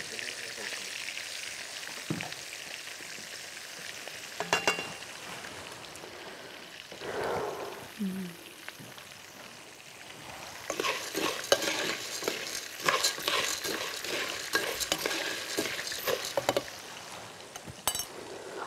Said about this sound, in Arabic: هنحمر المكرونة